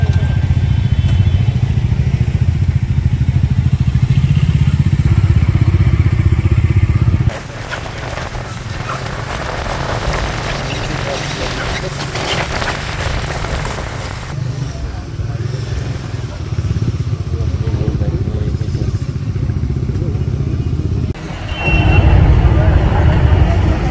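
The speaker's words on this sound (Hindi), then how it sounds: "इतने सारे बाइकर्स हैं यहाँ पे आए हुए।" Motorcycles gather for a Sunday group bikers' ride in Nagpur, their engines rumbling loudly at close range in a steady idling drone, with the sound shifting as bikes move around and some pass nearby.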